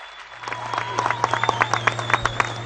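Clapping from an audience at a Kiambu governor's address, many hands building into a lively, uneven patter with sharp individual claps on top, moderately close, riding over a steady amplifier hum.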